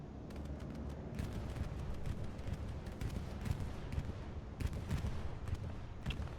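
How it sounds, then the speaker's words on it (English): Bombing run explosions in a video game, a dense rumbling barrage of blasts and crackling impacts, fairly quiet and continuous throughout. "Bombing run's coming in"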